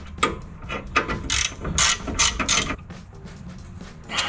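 Brake bolts are tightened on a Ford F-150 with a hand ratchet, giving a series of quick, close, irregular clicking bursts with short pauses between strokes.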